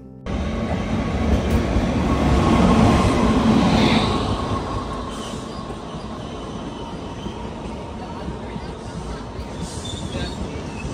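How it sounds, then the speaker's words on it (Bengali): Down Bhagirathi Express train 13104 running on rails between Berhampore and Sealdah, a steady loud rumble of wheels and carriage throughout with faint squealing, heavier in the first few seconds. "ট্রেন নাম্বার 13104 ডাউন ভাগীরথী এক্সপ্রেসে বহরমপুর থেকে শিয়ালদার পথে।"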